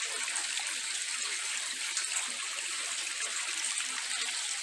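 Water from the discharge of an aquaponics fish tank flows in a steady, even, hissing rush, continuous and fairly soft, with no voices.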